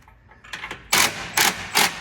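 Several short metallic ratcheting bursts, close by, with a few lighter clicks before them, as a wrench tightens exhaust bolts on a BMW G80 M3.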